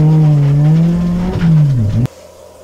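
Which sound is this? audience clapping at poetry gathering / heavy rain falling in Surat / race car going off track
race car going off track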